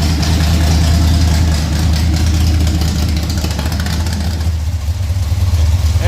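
A Pontiac 421 Tripower engine idles with one muffler fallen off, a loud, raw, throbbing exhaust rumble that stays steady and close for several seconds.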